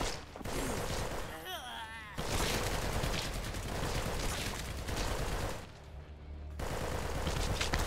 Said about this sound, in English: Not sure what the whole shooting into the air thing is worth